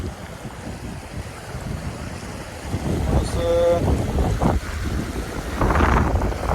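Strong wind buffeting a microphone at a river ghat before a river crossing, a continuous rough low rumble that swells and gusts louder later, with a brief whistle-like tonal sound in the middle.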